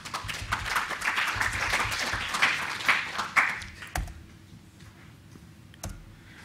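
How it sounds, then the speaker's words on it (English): Brief round of applause from a conference audience at a European data-science event, a scattered mid-level patter of claps lasting about four seconds before fading into quiet room tone. "Okay, so just a quick round of applause for David."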